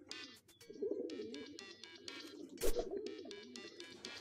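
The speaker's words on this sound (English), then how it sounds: "You mean one of your pigeons, don't you?" Soft repeated pigeon cooing from the video game Hiveswap, several low burbling coos at moderate loudness over steady game ambience, with brief clicks and a sharp burst near the middle.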